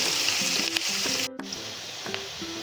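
Sliced onions sauté in a hot pan for egg masala bread snacks, with a steady close sizzle and brief stirring scrapes and clinks of a utensil.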